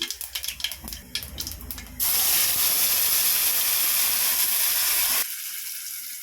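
Ground spice paste for a bottle gourd kuzhambu hits hot oil in a pan with a sudden loud, steady sizzle and hiss. A few light clatters come first, and the sizzle runs for about three seconds before dropping to a softer crackle.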